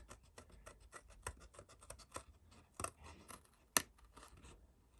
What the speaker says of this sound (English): we're going to cut our little mouse out